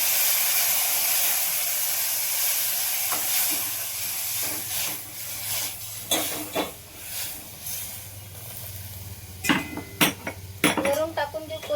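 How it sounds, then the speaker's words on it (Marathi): Boiled water poured from the side into a pan of simmering moong vada curry, a hissing steam burst followed by clinking of a pot and utensil, with loud clatters near the end. "आपण जे उकळलं पाणी होतं ना बाजूला ते टाकून घेऊ"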